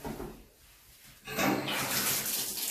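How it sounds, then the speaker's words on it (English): Water running into a bathtub to rinse baking soda off, a soft splashing that drops quiet briefly and then swells into a louder, steady gush, close and without talking. "And then I just rub that, just wash the baking soda off."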